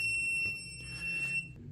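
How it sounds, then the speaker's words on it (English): Vivid Storm motorized ALR projection screen giving a single steady high electronic beep at power-on, lasting over a second in a quiet room, clear and close. "You get an audible beep there."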